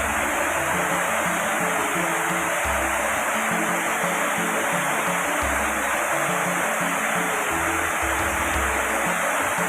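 Antrokan waterfall in Manggisan, Tanggul, Jember roars as a steady, dense rush of falling water close by, a constant broadband hiss with low thumps underneath, no voices.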